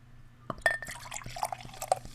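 Root beer, a hard root beer, poured aggressively into a glass: a splashing, gurgling pour with clinks and drips over about two seconds, close and moderately loud, with no talking.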